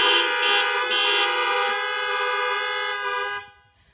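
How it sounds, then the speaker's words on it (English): A car horn blares in one long, loud, steady honk lasting several seconds before cutting off, sounded as a celebratory peace greeting at an outdoor July 4 worship service. "honk."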